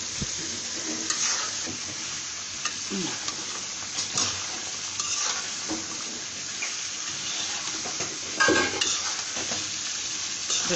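Fried desi chicken pieces with skin, tipped into a pot and stirred for a Bangladeshi chicken roast, make a faint continuous sizzle with soft scraping and clattering strokes, a louder stir near the end.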